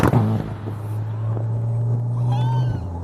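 A modified Skoda Octavia with 600 Nm of torque accelerates hard in manual mode, a deep, steady engine drone rising in a single pull, heard from inside the cabin.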